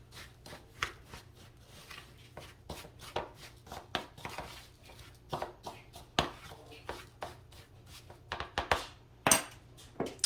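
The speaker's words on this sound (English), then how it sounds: "I'm gonna kind of mix this together here just a little bit, break up that brown sugar" Rolled oats being mixed with brown sugar and cinnamon by hand, giving a run of soft rustling, scraping strokes and light taps in an irregular rhythm, close and fairly quiet, with no talk.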